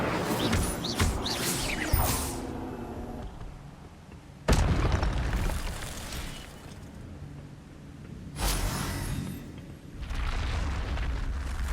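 Incendio fire spells blasting in Hogwarts Legacy, several loud booming bursts with fiery whooshes spaced a few seconds apart over a continuous rumbling game background.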